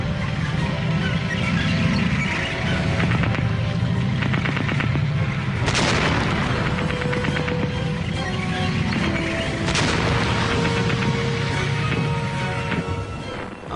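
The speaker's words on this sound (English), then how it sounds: "At last they got within effective range and opened fire again." Gunfire in a World War I tank battle, with guns firing from lumbering tanks: dense, continuous rattling shots and booms under a loud, rumbling roar that persists throughout, with no voices.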